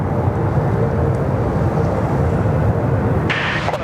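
Air New Zealand Airbus A321 touching down on runway 34 right at Sydney Airport, heard as a loud, steady broadband jet roar with low rumble that holds throughout, with a brief higher whine near the end.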